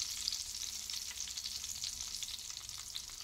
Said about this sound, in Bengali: খেতে বসবো তার আগে বেগুনটা ভেজে নিচ্ছি।